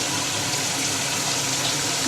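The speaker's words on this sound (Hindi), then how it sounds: "ये 4 गिलास हमने इसमें पानी ऐड कर दिया" Water pours steadily into a pressure cooker while making nihari, a continuous dense rushing splash that stays even and close throughout, with no voices.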